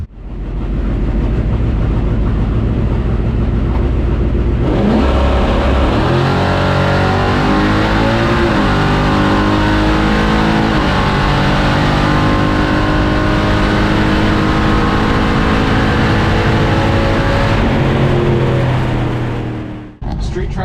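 A C10 race truck engine roars loudly on a drag racing test pass, idling low before surging into a hard, sustained rev that climbs through gears and holds at full power close by, then cuts off.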